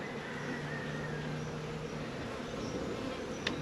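Honey bees buzzing around a hive, a steady, soft, continuous hum filling the background with no talk and a brief click near the end.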